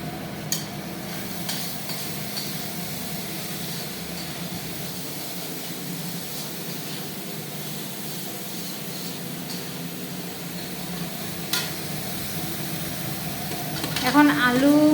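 Boiled potatoes, green peas and a little sugar are stirred and fried in a pan, giving a steady sizzle with soft scraping strokes, and a louder clatter rises near the end.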